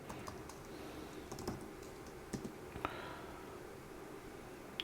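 Quick, fairly quiet keypresses on a computer keyboard as a short terminal login command is entered, with irregular clicks and a few sharper key taps over a steady background hiss.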